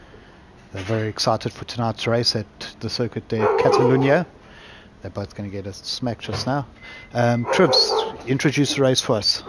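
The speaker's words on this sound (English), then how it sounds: "You can hear them barking." Several dogs bark inside a house during a live sim-racing broadcast, their yips and barks mixed under near, continuous talk from the presenters.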